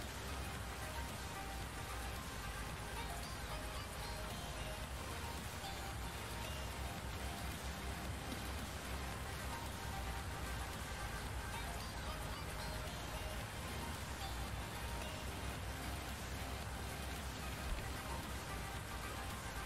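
Steady rain falls in Farming Simulator 19 on a Midwest farm map, a dense, even hiss of drops that holds without a break for the full stretch at a constant level.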